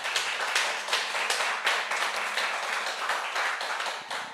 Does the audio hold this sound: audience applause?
yes